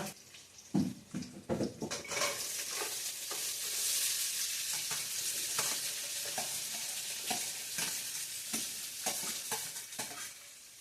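Onions tipped straight into a hot pan for uppittu sizzle steadily, with a broad hiss and irregular scraping stirs and clinks throughout, close and fairly loud with no talk.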